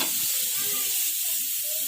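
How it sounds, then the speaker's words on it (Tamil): Cut potatoes hit a pan of hot masala for a Punjabi-style potato dish, giving a steady, loud sizzle with soft stirring scrapes underneath. "நம்ம கட் பண்ணி வச்சுருக்க பொட்டேட்டோவை இதில் ஆட் பண்ணிக்கலாம்"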